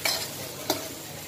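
Onion and garlic sauté over medium heat in a pan, a soft continuous sizzle broken by two brief scraping stirs, one at the start and one midway, with no voices.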